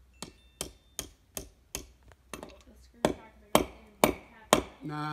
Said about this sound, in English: Do we need a different hammer?